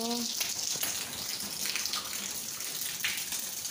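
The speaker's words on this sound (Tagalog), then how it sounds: "Lakas ng ulan." Dense, steady hiss of heavy rain in Saudi Arabia pours down nonstop, with water gushing and splattering close by as the front area floods.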